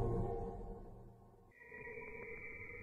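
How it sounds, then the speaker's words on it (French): A space probe recording of Saturn: a faint, hollow electronic drone shifts midway into a higher, steady whistling tone with soft pulsing, distant and eerie. "Tu vois, ça c'est le bruit de Saturne."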